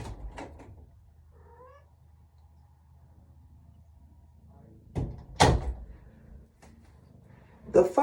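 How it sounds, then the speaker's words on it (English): A pet cat meows at a door indoors, with faint short meows and a few sharp knocks or bumps that sound like door or cupboard noises, heard alone in a quiet room. "my kitty cat is meowing at the door"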